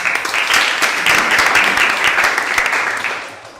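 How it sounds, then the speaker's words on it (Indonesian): Students in a classroom clap together, a dense and steady round of applause that lasts about three seconds and then fades. "Oke, tepuk tangan."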